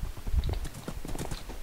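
Horse hooves clip-clop in a video game, a quick run of light, fairly close footfalls over a short stretch with no talking.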